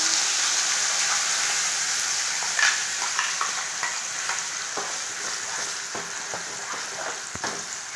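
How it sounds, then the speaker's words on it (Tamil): Mustard seeds and curry leaves sizzling in hot oil for a guava chutney tempering, a dense hiss full of quick crackles and pops that grow sparser toward the end. "கடுகு நல்லா பொறிஞ்சிச்சு இப்போ நம்ம கருவேப்பிலை சேர்த்துக்கலாங்க"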